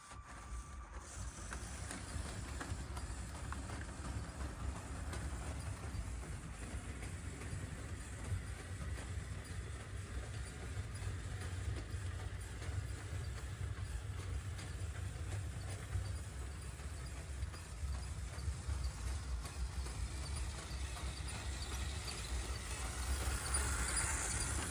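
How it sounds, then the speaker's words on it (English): A small LEGO toy train, a locomotive with two tank cars and a caboose, runs continuously along its track with a steady low rumble and faint clicking, slightly louder toward the end, with no talking. "now we've got the locomotive, the two tank cars, and the caboose"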